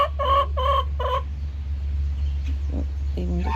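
Cinnamon Queen pullets cluck in a few quick, close, repeated bursts over a steady low hum, then scattered softer clucks and chirps follow.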